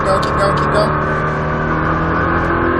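A Nissan GT-R engine hums and rises steadily as the throttle is rolled on, a continuous harmonic drone heard close from inside the car while someone talks over it.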